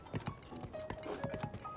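Horse hooves clip-clop in a quick, uneven rhythm in the video game Zelda: Tears of the Kingdom, several distinct knocks at moderate distance, fairly quiet with no talking.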